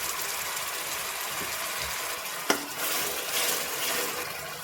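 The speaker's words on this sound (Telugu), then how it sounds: "ఇది కూడా పచ్చిదనం పోయిందాక మంచిగా ఫ్రై చేసుకోవాలి" Onion and tomato paste fries in a pan for batani chaat, making a steady, close hiss and sizzle that runs the whole time, with one sharp clink partway through.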